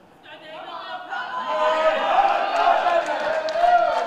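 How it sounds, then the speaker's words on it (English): Crowd at a weightlifting championship rising into loud, sustained cheering and chatter for a lifter, building from quiet over the first second and staying dense throughout. "You'll hear the crowd get right in behind him this time."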